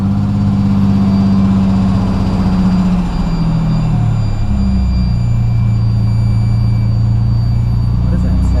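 A Mitsubishi Pajero engine, fitted with a full exhaust and throttle body mod and with a small air leak near a gasket, idles loudly and steadily up close, its low rumble dropping in pitch partway through.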